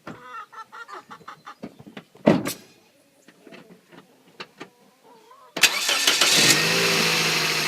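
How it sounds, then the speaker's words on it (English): Rapid irregular clicks and ticks come first, then a car engine on capacitor boost-pack power cranks and fires instantly into a loud, steady running roar, heard up close in the engine bay. "I'm going to start the car, and you guys can hear right in the engine bay the sound of the car starting"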